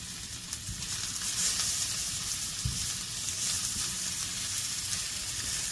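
Peppers charring in a pan over medium heat give a steady, close sizzle and hiss of frying throughout, with a couple of soft stirring bumps and no talking.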